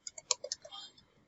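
Several quick keystrokes on a computer keyboard, tapping out a local web address in a rapid uneven burst, fairly close and quiet.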